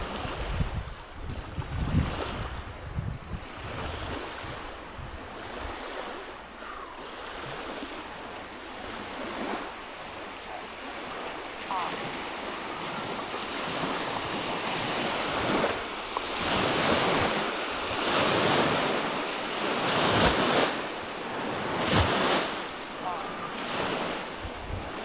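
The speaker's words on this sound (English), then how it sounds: "A little windy coming down the hill from behind me." Gusty wind blowing down a hill buffets the microphone in surging rushes, a continuous roaring wash that swells and fades over a long stretch without talk.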